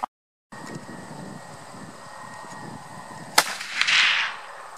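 A single muzzleloader rifle shot with a Federal Trophy Copper bullet, one sharp, loud crack partway through, followed by a rushing, roaring decay, with background noise before it and no talk.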